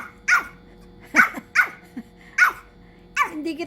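A Pomeranian puppy lets out five sharp, close barks spaced irregularly, the last trailing into a low growl, with quiet room ambience between them.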